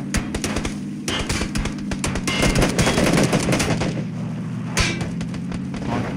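Rapid bursts of automatic gunfire in the video game PUBG: Battlegrounds, loud and close, with a steady low mechanical drone underneath.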